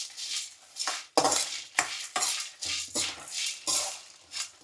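Whole spices, including cloves, toasting in oil over a low flame for a Chettinad chicken masala, stirred with a utensil scraping the pan in repeated rhythmic strokes, close and fairly clear with no sizzle standing out.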